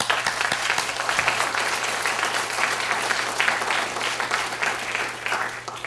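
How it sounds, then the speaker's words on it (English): An audience at a university symposium applauds steadily for the dean of a College of Medicine, a continuous, even wash of clapping with a low steady hum underneath. "how about joining me in applause?"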